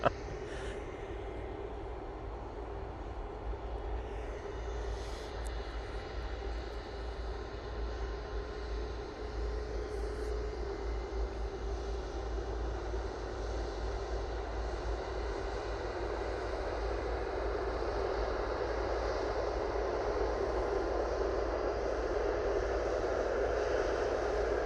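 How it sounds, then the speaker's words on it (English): A Eurowings airliner arriving at Manchester Airport, its steady jet roar and rumble rising slowly in loudness over a long stretch, with no talk. "It's the second Eurowings coming in now"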